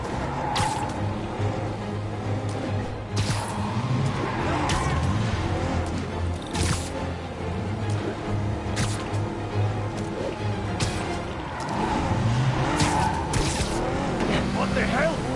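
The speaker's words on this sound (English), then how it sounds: "Now I just have to stop that car." A car drives continuously in a Spider-Man game chase, with engine roar, repeated tire squeals and skidding, and impact noises in a dense, loud mix.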